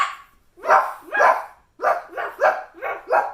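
A voice imitates a dog barking, giving a short run of repeated 'woof' sounds close to the microphone, two then four in quick succession.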